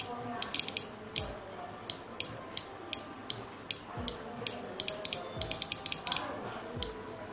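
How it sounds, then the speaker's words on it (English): A relay on a low-triggered, optically isolated 8-channel relay driver board clicks repeatedly at an irregular pace, sharp ticks over a quiet, low background hum, faint and close. "you can hear the tick tick sound of the relay"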